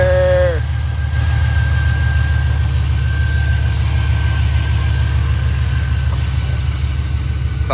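Chevrolet C10 with an LS3 V8 running steadily just after fire-up, a deep, even idle rumble close by with a brief higher whine at the start.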